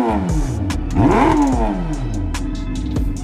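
Turbocharged Suzuki Hayabusa engine in a three-wheeler revs up close and loud, with one sharp rising-and-falling rev in the middle and a steady rumble around it.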